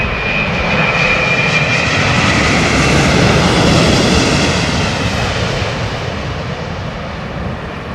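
Boeing 787-10 airliner at London Heathrow, its engines a loud, close, sustained roar with a whining tone that swells and then slowly eases away, no talking.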